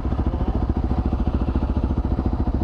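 A loud motorcycle engine fitted with a dB killer idles close by, its exhaust chugging in a fast, even pulse of low thumps that repeats without a break.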